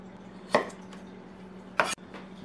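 A knife cuts potatoes into thin slices of about 2 mm on a cutting board for a Spanish omelette, with two distinct sharp knocks against the board about a second apart over a low background hum.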